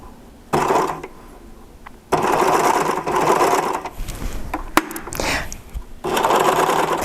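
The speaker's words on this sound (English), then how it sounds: "A serger has feet that come out in front of the foot, so it will pull fabric through really, really easy." A serger stitches fabric ruffles and trims the raw edge as it sews, running loud and close in steady motor bursts separated by short pauses.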